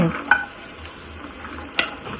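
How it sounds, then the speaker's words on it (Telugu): Peanuts roasting dry in a pan, faint scattered crackles with a couple of sharper clicks and scraping, quiet and close, no talk. "పల్లీలు కూడా వేగిపోయాయి చిటపట సౌండ్ వచ్చింది చూడండి"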